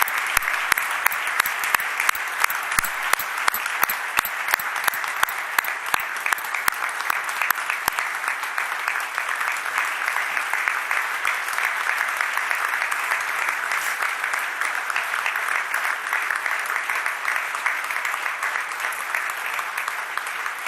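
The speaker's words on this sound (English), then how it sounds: "let us give a big round of applause for our honoree" An audience at an evening toast honoring James George breaks into sustained, dense applause that lasts throughout, with sharp clap transients early on and a steady roar of many hands continuing alone to the end.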